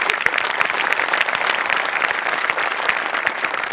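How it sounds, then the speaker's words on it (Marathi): Loud, dense applause from a studio audience at a Marathi TV comedy show, sustained clapping close and steady throughout with no pauses. "गोस्वामी सरांसाठी एकदा जोरदार टाळ्या वाजूया."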